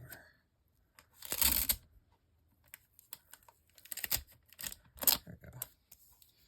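Scissors snip and trim through paper or card during a folding craft project, giving several short crisp cutting bursts with pauses between, close and fairly loud, and one brief spoken word.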